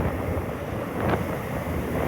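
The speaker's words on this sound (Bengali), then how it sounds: "ঠান্ডা ঠান্ডা হাওয়া আসতেছে" Wind roars steadily past a motorcycle rider's microphone on a road near Gabtoli, a dense, loud rushing buffet with no talk over it.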